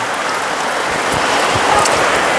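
Steady rain pours down during a storm, a dense continuous hiss of drops on surfaces with no voices, holding at a constant, fairly loud level throughout.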